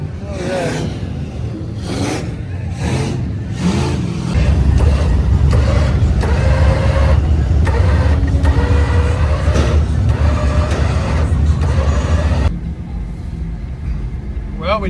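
A vehicle tows a broken-down side-by-side along a road, giving a steady low engine drone with rubbing, scraping and mechanical rattles that grow louder midway and then ease off, with voices talking over it.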